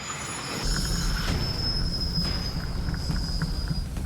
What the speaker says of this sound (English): A steam train out here may be a novelty, but for Ben, it's also a big responsibility